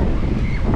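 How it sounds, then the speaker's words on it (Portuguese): Rough, choppy sea at a cold beach with strong wind buffeting the microphone, a loud, continuous roar of surf and gusts filling the short moment. "Olha esse marzão lindo aqui, ó. A água tá bem gelada, o mar tá bem mexido,"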